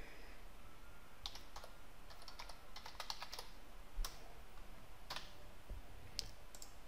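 Someone types on a computer keyboard while setting up a new project in CHCNAV Landstar 7 surveying software, giving quiet, irregular bursts of key clicks with short pauses between them and no voices.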